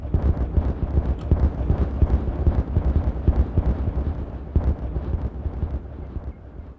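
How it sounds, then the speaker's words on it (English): Dense rumbling blasts from explosives set off in the beaver colony-building game Timberborn roll continuously in overlapping booms, loud and close with no talk. "we're going to celebrate with, well, explosions."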